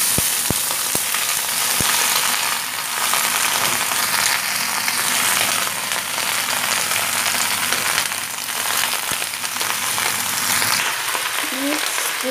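Mixed vegetables and cabbage frying in a pan, a loud continuous close sizzle that holds evenly throughout, with faint clicks near the start and a brief voice near the end.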